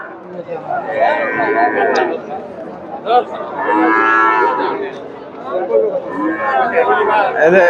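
Young bulls around one to one and a half years old at a cattle market low repeatedly with long moos, close and loud, while people chatter in the background.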